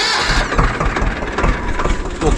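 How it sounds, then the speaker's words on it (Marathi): A farm tractor's engine cranks and catches after the clutch is pressed and the key turned, then runs in a loud, rough, close rumble. "ट्रॅक्टर चालू केला"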